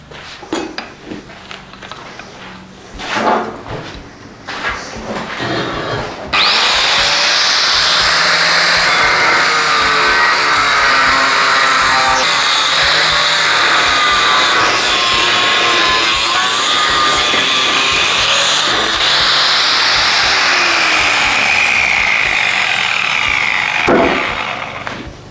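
A power tool cuts through wood while a sliding router table is being built, first some scattered knocks and handling, then a loud, steady, unbroken whine and rasp for most of the span, ending in a sharp knock.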